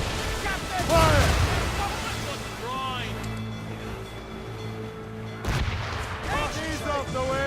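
Ship cannons boom in Assassin's Creed Rogue naval combat, two heavy blasts spaced a few seconds apart, each followed by rumbling decay, with shouted voices around them.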